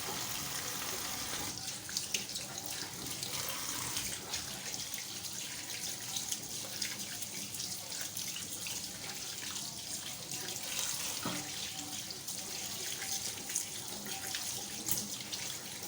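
Tap water runs steadily into a sink while raw fish is rinsed for a fish curry, with constant splashing and occasional louder spatters from the hands and fish.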